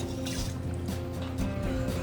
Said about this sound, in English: That doesn't stop boiling and bubbling when we stir it.